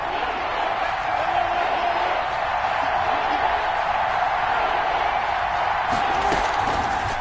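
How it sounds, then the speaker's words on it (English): Steady crowd noise from an American football video game on PS4, a broad continuous roar of cheering fans building ahead of a big third down, loud and unbroken throughout. "The crowd getting into it as we come up on a big 3rd down."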